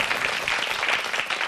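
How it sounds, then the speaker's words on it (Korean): Steady applause from a studio audience on a Korean health variety show, a dense continuous wash of clapping lasting throughout with no voices on top. "여러분 큰 박수 보내주시죠"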